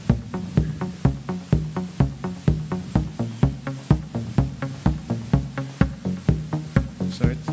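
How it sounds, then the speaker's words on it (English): A drum machine loops a steady regular pattern with notes randomized to odd, shifting pitches by a MIDI Arduino; repeated punchy hits at a fast even pulse, loud and upfront with no talking. "use it on the machine drum, it's going to have all these kind of weird pitches, and it's transformed by the MIDI Arduino"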